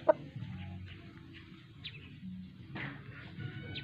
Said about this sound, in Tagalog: Marami siyang manok dito.